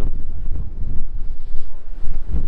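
Strong gusts buffet the microphone outdoors on Santo Antão, producing a heavy, fluttering low rumble that surges and dips throughout.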